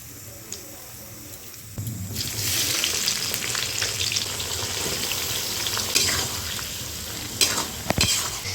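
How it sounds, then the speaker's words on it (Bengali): Onions, beans and carrots fry in a pan for fried rice, a quiet start that jumps into loud, continuous sizzling after a couple of seconds, with stirring scrapes and a few sharp clinks near the end. "ও এখানে ফ্রাইড রাইসের জন্য বিনস গাজর ভাজা বসিয়ে দিয়েছ, আর এখানে কি মানে ভাজা বসিয়ে দিয়েছ, আর এখানে কি পেঁয়াজ ভাজছো?"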